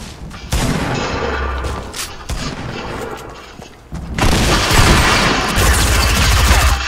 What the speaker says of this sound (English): He's shooting you down.